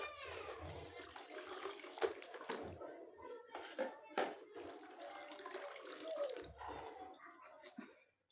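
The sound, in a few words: water while soaking children's clothes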